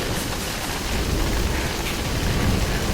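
Steady rain falling in the video game Middle-earth: Shadow of Mordor, a loud continuous broadband wash with no clear breaks and no talking.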